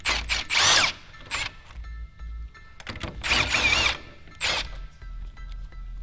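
Removing two 10mm bolts from the hood latch of an S550 Mustang with a 3.7L V6: several short bursts of a power drill or driver whirring near and loud, separated by brief pauses and light clicks.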